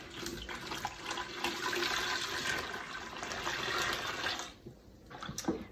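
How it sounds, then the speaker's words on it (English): Four cups of very warm water pour steadily into a bucket, a continuous rushing splash for several seconds that stops near the end, followed by a few faint knocks. "So 4 cups of very warm water going into the bucket."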